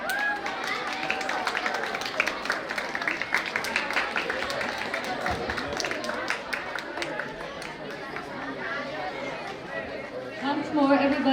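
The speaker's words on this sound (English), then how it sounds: "Big round of applause." School prize ceremony audience giving a big round of applause, dense clapping mixed with crowd chatter and cheering, sustained throughout at a lively, fairly loud level.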